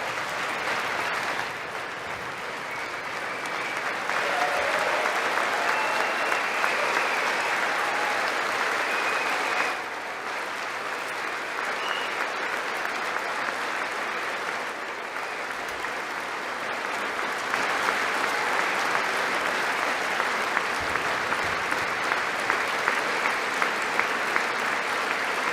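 A large crowd applauds a speech in a long, steady wash of clapping that holds for over twenty seconds, dense and even with slight swells, heard from a distance with little talk.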